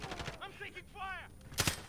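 Gunfire in the video game Modern Warfare: a sharp burst of a few rapid shots near the end, standing out loud and close after quieter game effects and chirping sounds.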